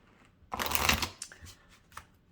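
Tarot cards being shuffled by hand: one quick riffling burst, followed by a few softer card slides and taps, close and quiet.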